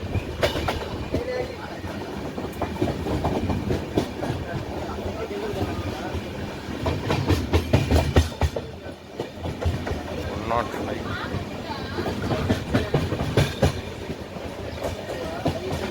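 The West Coast Express train, heard from inside a sleeper coach, rumbles steadily with rhythmic clickety-clack from the wheels on the rails, a close and continuous rolling noise with faint voices in the background.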